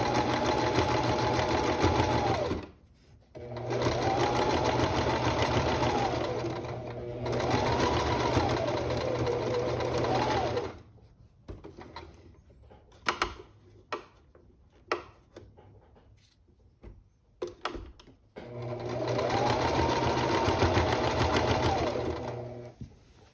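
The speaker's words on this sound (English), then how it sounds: "So I'm gonna sew all the way up until" A sewing machine stitching a shirt placket runs in several long, steady bursts, close and loud, with a stretch in the middle of light handling taps and rustles before the motor whirs again.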